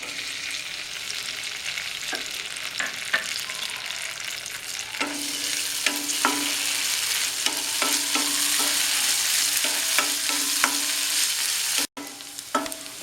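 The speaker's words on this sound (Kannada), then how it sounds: "ತುಪ್ಪ ಬಿಸಿಯಾದ ನಂತರ ಅರ್ಧ ಕಪ್ ದ್ರಾಕ್ಷಿನ ಸೇರಿಸ್ತಾ ಇದ್ದೀನಿ" Raisins roasting in hot ghee, a loud continuous sizzle with repeated scraping stirs of a spoon in the pan, for sweet and sour mango gulumba.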